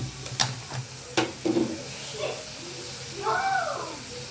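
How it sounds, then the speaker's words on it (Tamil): Tomatoes are stirred in a hot pan while making pasta, a soft scraping of the spoon with light sizzling and a few sharp taps of utensil against the pan. "நல்லா மிக்ஸ் பண்ணி விடுங்க. தக்காளி வந்து நல்லா வேகணும்."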